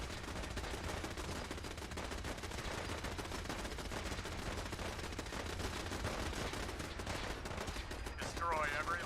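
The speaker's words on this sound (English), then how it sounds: "Look at all these enemies we have to kill with a laser gun." A laser gun fires in rapid, continuous bursts during a Fallout 4 battle, a dense crackling volley that runs without pause for about nine seconds amid the din of combat.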